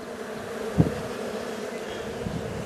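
Honey bees swarm around an open beehive that came through winter without food, making a steady, close, full buzzing drone throughout, with one brief bump partway through.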